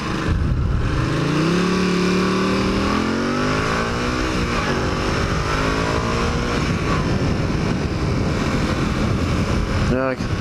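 A 1981 Honda CX500 motorcycle with a carburetor issue runs loud and close while riding a commute, its engine pitch rising and shifting through gears under wind noise.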